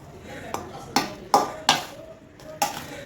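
Tamarind pulihora being stirred in a pot, with a handful of sharp clinks and scrapes of a spoon against the metal at an uneven pace, close up and with no talking.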